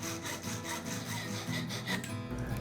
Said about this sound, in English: Now I cut this bolt to length